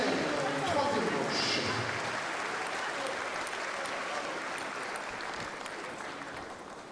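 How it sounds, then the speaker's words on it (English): Steady applause from a large crowd at a European Championships final between Portugal and Romania fills the whole stretch, fairly loud and continuous, gradually tapering slightly toward the end. "Applaudissements au Portugal, applaudissements à la Roumanie."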